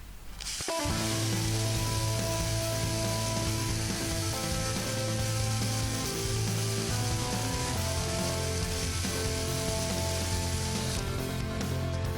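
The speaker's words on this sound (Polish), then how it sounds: "Trzeba już odwiercić część kołka." A power drill bores out a wooden dowel around a rusted, swollen screw in the deck of a boat's wheelhouse, a steady whining grind that runs close and unbroken for about eleven seconds before stopping.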